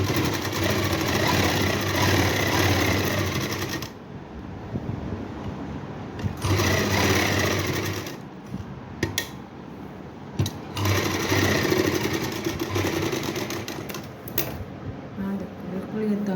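A sewing machine stitches a pocket onto palazzo pants, running close and loud in long steady bursts separated by brief pauses and a few short stops.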